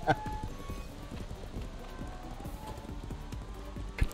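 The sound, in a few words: horse hooves running in video game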